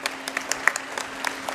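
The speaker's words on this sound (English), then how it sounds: "start us function with a big round of applause" Audience in a school auditorium claps at the opening of an annual function, brief scattered applause with distinct individual claps.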